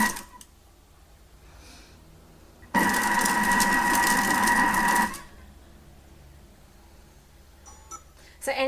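A Thermomix food processor whirs loudly for a couple of seconds in the middle, with quiet room sounds and faint breathing before and after.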